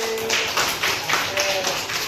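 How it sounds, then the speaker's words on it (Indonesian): A classroom of children applauding a classmate, a group clapping in a quick, even rhythm of repeated bursts, close and moderately loud. "Tepuk tangan untuk Arsi."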